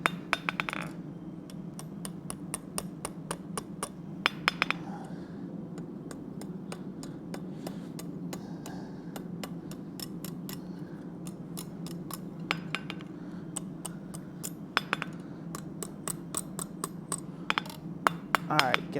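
Hammering hot metal on an anvil during forging: sharp ringing metallic strikes come in quick bursts and scattered single blows over a low steady hum, fairly close.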